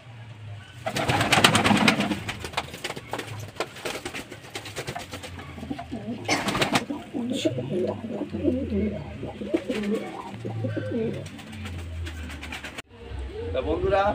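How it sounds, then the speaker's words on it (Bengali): Male pigeons perched together coo repeatedly in throaty rolling phrases, several birds overlapping, while someone talks over them and brief bursts of noise break in. "চলুন এবার নর কটা দেখাই। এই নর সব এই বসে আছে সব বাড়ে।"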